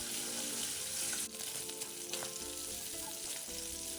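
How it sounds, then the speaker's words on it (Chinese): Steady sizzling of 100 g of pork belly strips stir-frying over medium heat in fried-scallion oil, with occasional scraping of a utensil against the pan, close and continuous. "油热后倒入切成条状的五花肉100克，中火将五花肉煸香"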